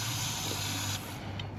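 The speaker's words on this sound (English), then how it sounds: "And never hurts to rinse your tire off, just to be on the safe side." Water sprays from a nozzle to rinse off a tire, a close, continuous hissing spray that briefly eases off partway through, with no voices.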